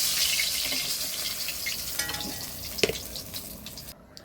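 Tilapia pieces frying in oil in a wok, a steady broad sizzle with a few sharp clinks and scrapes from turning the fish, close and moderately loud.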